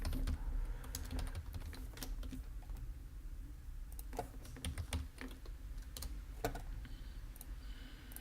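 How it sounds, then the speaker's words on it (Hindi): Steady clicking keystrokes on a computer keyboard as text is typed into Premiere Pro, a close run of irregular taps over a low room hum, with no speech. "हम इधर जो आपने टेक्स्ट यूज़ करना है वो हम इधर टाइप करेंगे।"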